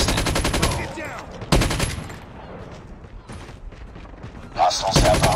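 Loud close bursts of machine-gun fire from an RPD light machine gun in Call of Duty Mobile, hardpoint mode, broken by quieter stretches with game voice callouts in between.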